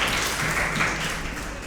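Audience applause at a Manikarnikotsavam gathering celebrating Rani, a steady wash of clapping hands running continuously at moderate loudness with no voices over it.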